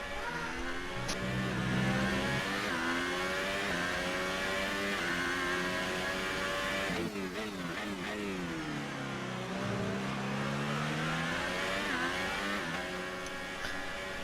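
F1 race car engine from the F1 2018 racing game at Bahrain, revving hard as it accelerates with DRS open for an overtake, a loud, continuous high-pitched whine sweeping up through the gears with brief shift dips.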